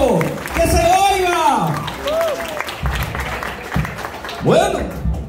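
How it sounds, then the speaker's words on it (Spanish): Loud audience applause at a quinceañera celebration fills the room, a steady wash of clapping that swells and dips under a voice or music carrying over it throughout. "Fuerte, fuerte, fuerte, fuerte, fuerte, fuerte ese aplauso. Que se oiga."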